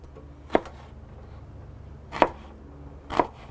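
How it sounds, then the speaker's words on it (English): A knife chopping an onion on a board, three distinct crisp chops spaced apart, close and clear with no talk. "So I'm just gonna give this onion a fine chop here."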